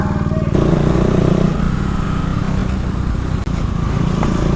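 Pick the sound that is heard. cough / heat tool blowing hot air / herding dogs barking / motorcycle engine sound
motorcycle engine sound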